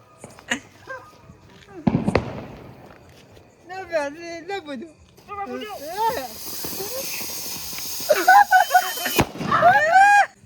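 Diwali firecrackers burst in a Gujarati village: a few sharp, loud bangs with crackling hiss break through lively chatter and excited voices.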